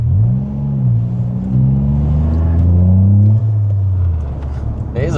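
A Toyota Yaris GR engine sounds through a 2.5-inch exhaust, its deep, loud note climbing and falling as it revs under acceleration, with people talking over it inside the car.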